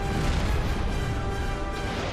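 Explosions in the video game Knights of the Old Republic 2 make a loud, continuous rumbling blast that fills the whole clip without talk.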